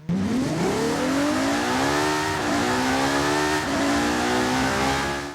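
A Ferrari 599XX in Forza Horizon 5 accelerates hard, its engine revving up through the gears with a loud, rising howl broken by brief shift dips, heard alone and close.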